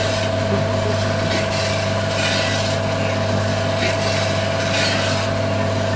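A coffee roasting machine in Rejang Lebong runs with its drum rotating, producing a steady motor hum with a constant tonal whine and faint rhythmic scraping of beans over a continuous background.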